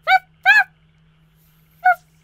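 A dog whimpers in Persona 4 Golden, three short high whines, the first two close together and the last after a pause, over a faint steady electrical hum.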